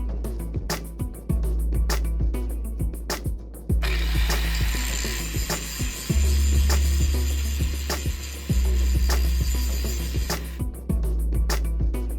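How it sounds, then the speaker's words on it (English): Steady ratcheting from a hand wrench as brake parts are bolted back together on a 1968 Mustang during a drum-to-disc brake conversion. Rapid clicking comes in repeated bursts, close and fairly loud, with brief pauses and no talking. "I just gotta bolt all this stuff back together and we should be good."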